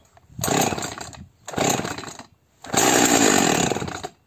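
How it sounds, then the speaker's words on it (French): A small Husqvarna chainsaw, started with its pull starter, makes three loud bursts of engine noise, two short and one longer, separated by brief pauses, close by with no talk. "donc on va démarrer la petite Husqvarna"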